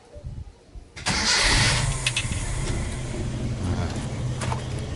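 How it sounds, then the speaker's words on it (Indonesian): A Toyota Kijang Commando SSX engine cranks and catches after a quiet second, then settles into a steady, loud idle with a low rumble close by. "bagian mesinnya kita start dulu bagian mesinnya sambil kita dengerin"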